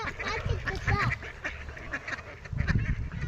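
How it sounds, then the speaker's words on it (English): Black-headed gulls at a pond call repeatedly with short, harsh squawking cries, several birds overlapping against a background of outdoor noise. "Black-headed gulls."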